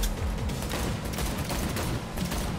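Pistol gunfire in the video game Cyberpunk 2077 comes as rapid bursts of loud, sharp cracks in quick succession, close and dense, with no speech over them.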